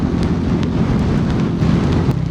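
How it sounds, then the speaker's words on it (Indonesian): Steady rain falling during a solo motorcycle tour from Bandung to Purwokerto toward Dieng, a dense continuous wash with heavy low rumble like wind and road noise, with faint scattered drips and no speech. "Syahdu banget ya kalau hujan gini."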